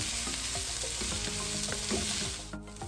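Chopped ripe tomatoes and onions sizzle in a pan while being stirred, a steady frying hiss broken by scraping spoon strokes, close and without talk.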